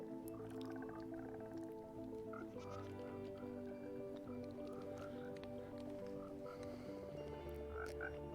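Frogs in Minecraft croak repeatedly in a dense, overlapping chorus, with short squishy blips and a steady game music bed underneath throughout.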